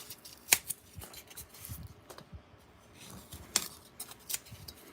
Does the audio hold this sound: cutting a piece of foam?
yes